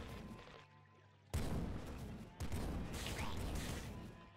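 Weapon fire in the video game Nuclear Throne, a dense, loud barrage of blasts and crackling bursts that swells suddenly twice and keeps roaring steadily to the end.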